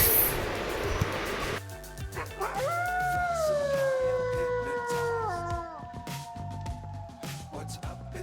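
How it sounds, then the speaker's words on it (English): A wolf howls in one long, sustained call that rises and then slowly falls over several seconds, heard clearly over light background sounds. "wolf."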